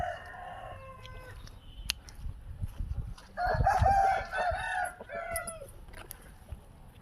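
Country rooster (natu kodi fighting cock) crowing in a village farmyard, one long loud crow mid-clip after a fainter distant crow, with clucks around it.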